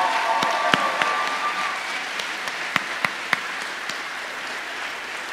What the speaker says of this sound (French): je tiens à vous faire une belle main d'applaudissements pour ça